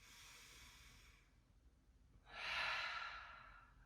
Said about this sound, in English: Take a big inhale through the nose. And exhale, side out, let it go.